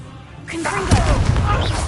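A Confringo blasting spell cast in Hogwarts Legacy lands as a sharp booming impact with crackling debris, following a short shouted incantation and staying loud and busy for the rest of the moment.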